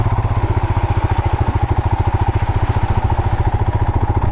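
A motorcycle on a solo ride near the beaches of Goa, its engine close and loud with a steady, rapid thumping pulse that holds throughout, without voices.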